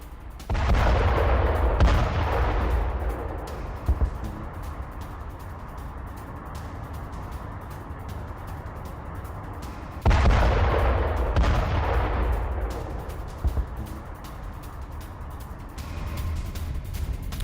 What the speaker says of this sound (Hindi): करज़ और तेहरान के बीच रात में भारी बमबारी हुई। हमले की आवाज से तेहरान में फैली दहशत।